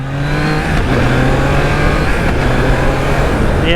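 A 2021 Triumph Trident 660 motorcycle engine pulls steadily on Sydney streets, a loud continuous drone with rising harmonic tones that climb as it accelerates, heard alone without talk.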